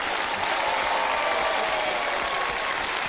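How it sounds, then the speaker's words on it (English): Studio audience applause rolls steadily throughout at a 1993 television show, a thick, continuous wall of clapping with no speech over it. "Give them a round of applause"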